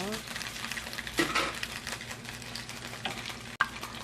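Eel pieces frying in a pan at home, a steady close sizzle and crackle running throughout with a few louder spits and pops as the fillets are turned.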